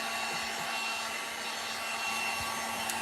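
A hair dryer blows steadily and loudly at close range for the whole span, drying a freshly painted patriotic decor item finished with cinnamon for a rust texture.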